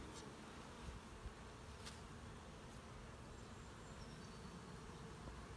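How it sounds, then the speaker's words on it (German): A dense, steady hum of many honey bees buzzing in a hive, continuous and even throughout, with no voices. "Und Bienen ohne Ende."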